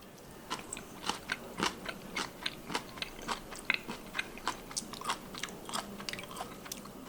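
Crunchy boiled soybean sprouts are chewed close to the microphone, giving a quick, regular series of crisp crunches, about two to three per second, against a quiet background.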